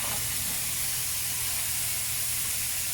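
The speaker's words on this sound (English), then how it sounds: "I'm going to sweat these down" Spring onions, garlic and mange tout fry in a pan with a steady, even hiss that holds for the whole stretch. No one talks over it.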